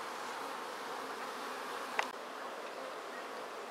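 Honeybees swarm around a small six-frame nucleus hive topped with a Langstroth-frame super, giving a steady, dense, close buzzing that runs throughout, with one brief sharp click midway and no voices.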